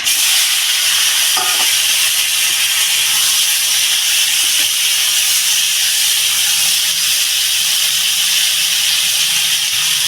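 Eggplant and potato with ground coriander and cumin hit hot oil in a pan, giving a loud, close, continuous sizzle and hiss that holds steady throughout with no voices.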